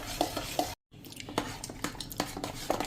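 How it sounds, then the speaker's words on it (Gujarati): A spoon stirs malai cream in a vessel set in hot water to churn it into butter, giving a steady run of close scraping and clinking strokes with a brief silent gap. "આપણે ચમચેથી હલાવીએ છીએ ને એટલે માખણ થઈ જ જાય છે"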